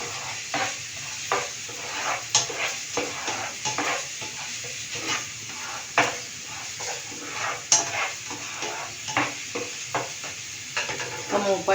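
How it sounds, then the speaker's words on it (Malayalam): Ginger fries in a pan for chicken curry while a spatula stirs it, making a soft, constant sizzle broken by repeated scraping strokes at a close, moderate level. "ഇഞ്ചിയൊക്കെ വേവാൻ കുറച്ച് സമയം എടുക്കും."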